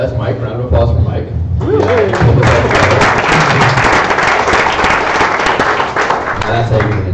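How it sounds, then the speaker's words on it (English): An audience claps for Mike at a technical talk on the history of distributed state and chains. The applause swells quickly and rattles on densely for about five seconds, close and loud, with a speaker's voice before and after. "Round of applause for Mike."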